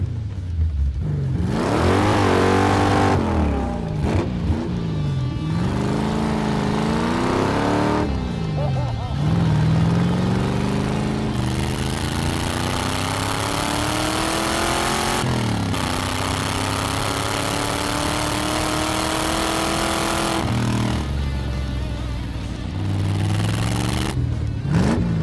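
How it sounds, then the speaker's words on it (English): A go-kart powered by a 1985 C4 Corvette engine accelerates hard with rising, sustained engine roar and repeated shifts, loud and close throughout, with voices talking over it at points. "the go-kart is light, it is nimble, it accelerates good"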